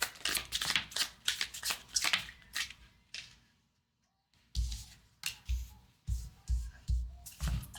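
Tarot cards are shuffled with rhythmic, repeated riffling and slapping bursts, close and crisp, broken by a brief quiet pause before the shuffling resumes.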